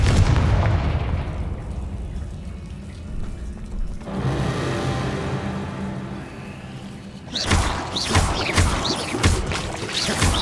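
Spell blasts boom and crackle in a Hogwarts wizarding video game as the Confringo fire spell explodes, with heavy rumbling bursts, a sustained hiss, and a fresh crackling eruption near the end, no talking over it.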